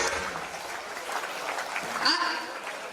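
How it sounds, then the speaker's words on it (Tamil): Audience at a Tamil television comedy show applauds to welcome performers onto the stage, a dense, even wash of clapping heard a little distant, with people talking and a short vocal sound over it. "நல்லா நீங்க கைத்தட்டணும்"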